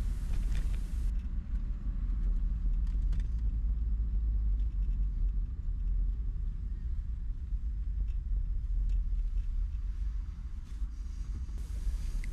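Road traffic of passing cars around Webheath, a steady low rumble of vehicles heard at a distance, continuous and moderately loud with no voices.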